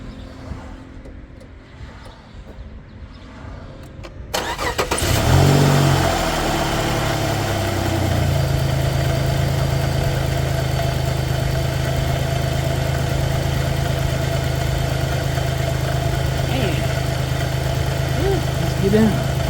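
A vehicle engine, freshly given its first oil change in years, cranks and catches after a brief quiet stretch with a voice, then settles into a steady, rumbling idle that runs on alone.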